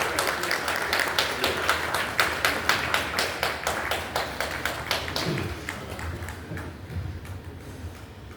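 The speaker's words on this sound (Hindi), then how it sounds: "तालियों की गड़गड़ाहट रुकनी नहीं चाहिए।" An audience applauds at a welcome ceremony during a provincial convention in SIDCUL Haridwar, sustained clapping with a steady rhythmic pulse that swells and then gradually thins and fades toward the end.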